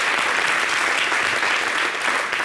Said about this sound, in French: on a applaudi.